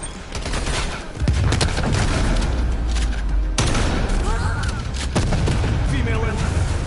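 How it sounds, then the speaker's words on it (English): Grenade blasts and gunfire in the shooter game Call of Duty Cold War, with a heavy boom near the one-second mark and another around three and a half seconds, set against continuous rattling shots and battle noise. "Throwing grenade."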